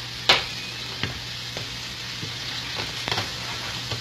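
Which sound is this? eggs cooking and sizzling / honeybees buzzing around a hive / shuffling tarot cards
eggs cooking and sizzling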